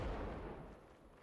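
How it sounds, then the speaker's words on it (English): Artillery fire during a siege in a video game, a single dull, fairly quiet boom that rumbles low and fades out over about a second. "they have good artillery"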